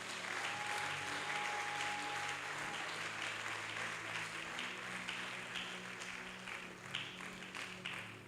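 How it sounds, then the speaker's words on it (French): A church congregation applauds the Lord in loud, sustained, dense clapping that fills the room throughout, with a faint held tone underneath. "On acclame le Seigneur."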